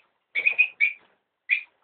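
Lovebirds call in an aviary, giving a few short, shrill chirps in a quick burst, then a pause and one more chirp, close and clear.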